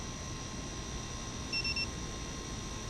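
A Vifly Beacon anti-theft alarm beeping: two short, high electronic tones in quick succession, faint above a steady hiss, with a quieter whine in the background.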